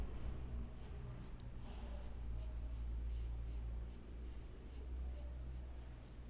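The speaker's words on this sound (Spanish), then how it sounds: "Si necesitamos reafirmar algunas líneas para definir más el pelo, las vamos a reafirmar con el otro lápiz," An HB pencil scratches lines on drawing paper while shading hair in a portrait, giving faint, steady, rhythmic strokes close up over a low background hum, with no talking.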